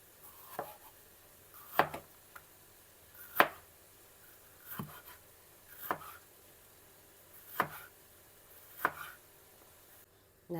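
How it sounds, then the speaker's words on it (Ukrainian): A knife chopping a pepper on a cutting board in a home kitchen, eight sharp separate knocks spaced roughly a second or more apart, close and clear over quiet background, with no voices. "Дорізаю перець."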